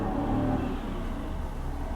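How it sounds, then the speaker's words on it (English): A loud truck passes close by, a steady broadband engine and road roar that is strongest early and eases slightly over two seconds, with no talk. "Loud Truck."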